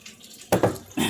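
Water being added to a pan of sweet and sour sauce sweetened with yellow brown sugar, made for halibut fish, comes as two short close splashing pours followed by a steadier stream near the end, with no talking.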